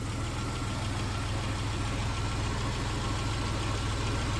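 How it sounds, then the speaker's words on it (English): A 1991 Dodge Caravan engine, left abandoned in a backyard for 21 years, runs at a steady idle with a dense, even low rumble and constant mechanical drone, close and unbroken throughout. "Will that motor run after 21 years sitting abandoned in a backyard? Abso-frickin-lutely."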